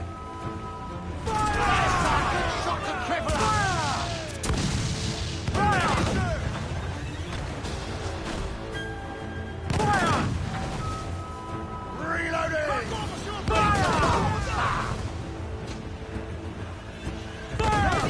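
Ship cannons fire in Assassin's Creed IV Black Flag naval combat, heavy booms and crashes in several bursts across the clip, loud and close under shouted crew voices and a music bed.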